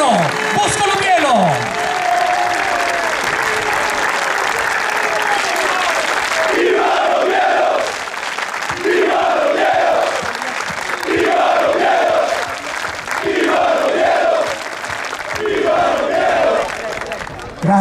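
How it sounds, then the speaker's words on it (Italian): A large crowd of football supporters applauding steadily throughout, with cheers and rhythmic shouting rising over the clapping, celebrating promotion to Serie C. "Ancora applauso"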